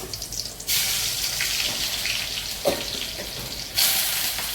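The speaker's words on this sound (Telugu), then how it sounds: "దీన్ని ఇప్పుడు మనం తాలింపు పెట్టేసుకున్నాం అది కూడా చిన్న ముక్కుట్లో కొద్దిగా ఆయిల్ పెట్టాను" Chillies, garlic and curry leaves tempering in a little hot oil in a small pan, a steady close crackling sizzle with louder bursts of spitting as ingredients hit the oil.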